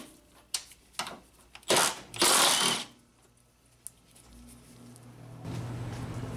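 Ratchet with a 12mm socket loosening bolts on the front strut of a 2007 Honda Accord, heard as brief clicking and knocking bursts with a louder metallic stretch midway, close by in a quiet garage without talk.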